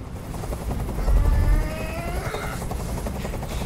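A helicopter hovers overhead in the video game Detroit Become Human, loud rotor thumping and whine filling the scene with a heavy low swell near the start, no talking.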